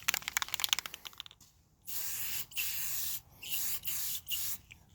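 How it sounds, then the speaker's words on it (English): Aerosol spray paint can hissing in several short bursts of a second or so each, close by, after a rapid rattling of the can at the start; no talk. "This paint ain't spraying worth the crap."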